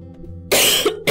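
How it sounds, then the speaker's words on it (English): Two harsh coughing bursts from a woman in the game Night in the Woods, the first long and loud, the second short, after a quiet ambient stretch. "This cough never seems to go away."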